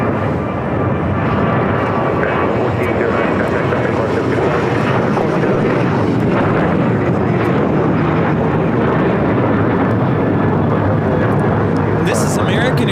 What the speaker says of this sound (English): This is American Airlines 1409 taking off to Nashville, Tennessee on a 737-800.